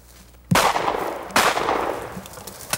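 Two close, loud gunshots ring out about a second apart while rabbit hunting at the edge of a woods beside a grassy field, each sharp blast trailing off in a long echoing decay.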